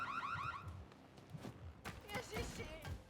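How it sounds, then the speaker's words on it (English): An alarm in the game Vampire: The Masquerade – Bloodhunt blares with a rapid warbling siren pattern at the start, then gives way to thuds, footsteps and a person talking. "the alarm is gonna sound here"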